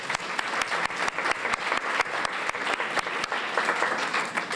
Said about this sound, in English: I'm going to applaud for that myself